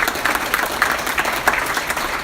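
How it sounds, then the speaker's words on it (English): An audience gives a round of applause, brisk crowded clapping with a fluttering rhythm, fairly loud and close for the whole stretch. "Please give her a round of applause"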